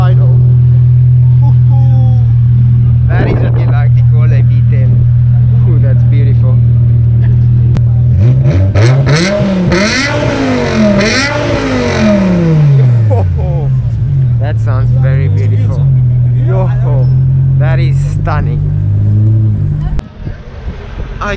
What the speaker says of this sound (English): Just hear this idle. That is what you like to call a V10.